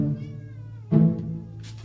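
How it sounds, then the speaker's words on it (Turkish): A cat shut outside on a balcony meows twice, close and clear, with a long tonal first call and a louder, sharper second one, and no talk over it. "bak miyavlıyor dışarıda kaldı"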